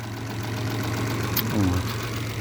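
A Mitsubishi Pajero 2 engine idles with a steady low rumble throughout, and a brief higher tone rises and fades near the end.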